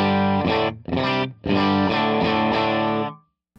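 Electric guitar played through a Fractal FM9 amp model with compression, its highs rolled off slightly, giving a sustained, heavily driven chord phrase with a couple of brief breaks, loud and alone before fading out.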